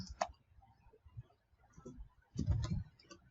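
Key presses on a computer keyboard while entering text into WordPad, a few soft clicks scattered then a denser burst of typing near the end, fairly quiet and close.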